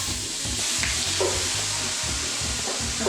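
Ground beef sizzles loudly in a lightly oiled skillet over medium-high heat, a steady bright crackle with soft scraping and stirring knocks running underneath, and no one speaking.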